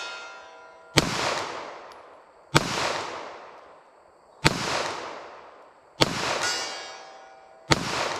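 Five loud 9mm handgun shots fired into ballistic gel on a range, evenly spaced about one and a half seconds apart, each a sharp crack followed by a long ringing decay, with no talking.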